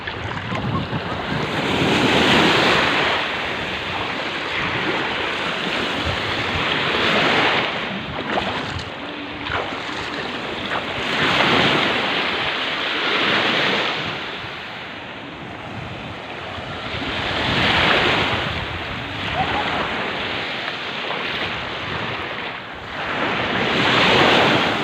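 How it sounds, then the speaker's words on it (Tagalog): Strong ocean surf rolls in repeated surges onto Patar Beach in Bolinao, Pangasinan, each wave swelling into a loud crash and easing off, with wind buffeting the microphone throughout. "lakas ng alon, no?"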